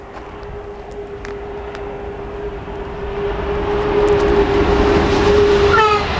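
A train rolls past with a steady low rumble and a sustained tonal hum that swells louder over several seconds, with a brief bright whine near the end and no talking.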